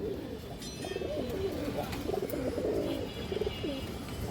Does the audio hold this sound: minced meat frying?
no